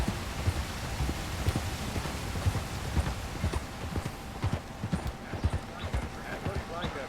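Horse hooves clip-clop steadily in Red Dead Redemption 2, a dense, close run of hoofbeats over a low ambient bed, with no speech over them.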